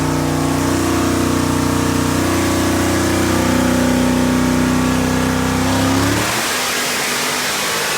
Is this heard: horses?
no